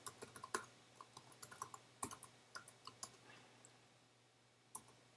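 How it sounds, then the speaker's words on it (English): Keys clack on a computer keyboard while a command is typed, a quick irregular burst of sharp clicks followed by a pause and a few final isolated taps, close and fairly quiet. "as I type a command"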